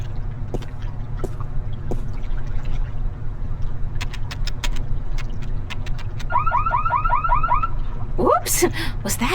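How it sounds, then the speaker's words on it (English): A car alarm sounds in the video game The Longest Journey, a quick run of repeated electronic chirps over a steady low ambient hum, with scattered clicks and a rising whoop near the end. "The alarm is active, but it can't be very effective with the doors wide open like that."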